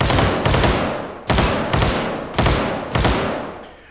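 Sosiggun auto-reload effect in the VR shooter H3VR: a series of five loud, sharp mechanical bangs at irregular intervals, each ringing out with a decaying tail, with no one speaking.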